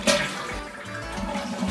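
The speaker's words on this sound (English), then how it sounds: "Show me how you flush it." A household bathroom toilet flushes with a sharp initial whoosh, then water churns and drains steadily nearby with no voices.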